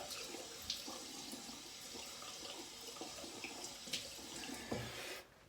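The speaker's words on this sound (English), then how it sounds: "Then I rinse it off with cold water." Cold tap water runs steadily into a sink while a face is rinsed after a wet shave, with small splashes and drips over a constant flow that cuts off abruptly at the end.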